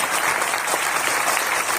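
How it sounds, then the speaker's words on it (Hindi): Loud, steady applause from an audience at a Manik Nagar Datta Jayanti festival gathering, dense continuous clapping filling the whole moment with no voices over it. "जोरदार तालियों से"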